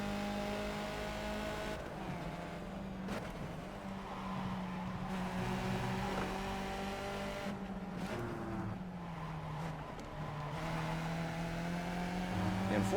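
A Skip Barber F2000 race car in the iRacing sim at Road Atlanta holds a steady buzzing engine drone that rises and falls as it shifts gears and changes revs, close up and continuous under occasional speech.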